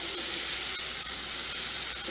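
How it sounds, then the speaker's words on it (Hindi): Paneer masala fries over a high gas flame while being stirred, giving a loud, continuous sizzle with light scraping, close by and without any talking. "इसको हिला लेंगे, गैस को तेज कर देंगे"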